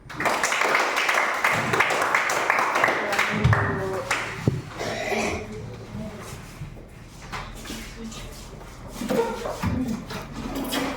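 A school class bursts into a few seconds of brisk, close clapping that thins out, followed by a teacher and students talking in the room.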